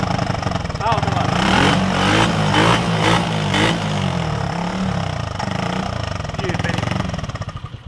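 Loud motorcycle engine revving without its air filter, a rough roaring drone with pulsing throttle bursts running continuously throughout, close by.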